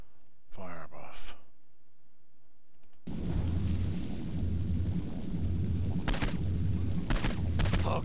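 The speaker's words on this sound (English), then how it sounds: "Particularly flaming bullets. Flaming bullets." Flaming-bullet gunfire in Saints Row 4, a dense, loud sustained roar of rapid shots with intermittent sharper bursts, following a short stretch with a spoken voice and quieter game ambience.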